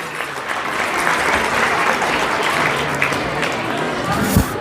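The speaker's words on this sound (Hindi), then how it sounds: "एक बार ज़ोरदार तालियां बजाइए" Loud, sustained applause from parents and guests at a school prize distribution day in Aurangabad, a dense continuous roar of many hands clapping for several seconds with no pause.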